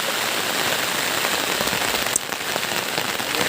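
Steady rain pours onto broad taro leaves outdoors near the Meghalaya border, a dense, loud, continuous patter with no voices.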